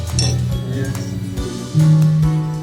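Wine glasses clink together in a toast, with a few light, brief chimes ringing out over steady background chatter and room noise.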